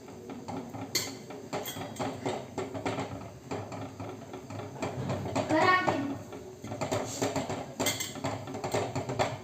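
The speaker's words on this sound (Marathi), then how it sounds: "याच्यानंतर पीठ सोडायचं आणि हलवायचं हे पिठलं हटायचं" A spoon stirs besan flour into pithla in a cooking pot, giving a close, continuous run of light scraping and clinking against the metal.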